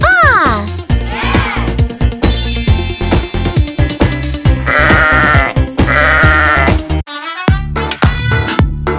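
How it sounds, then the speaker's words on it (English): A sheep bleats repeatedly and loudly in a children's farm-animal toy segment. The wavering bleats sit close and prominent over bright background music with chime-like accents. "Shall we see what the sheep says? The sheep goes..."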